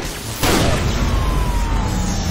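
A gunshot in a Korean gangster action film: a sudden loud blast after a brief quiet, followed by a long rumbling, reverberant tail that holds until the end.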